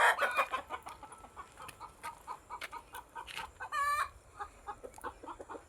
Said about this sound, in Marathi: हे बघा कोंबड्या दिसत असतील तुम्हाला